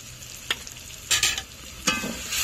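Ground turmeric, cumin, coriander and chilli powder fry in a pan for a chicken curry, with a steady close sizzle and a few sharp scraping stirs of a spatula, no voices.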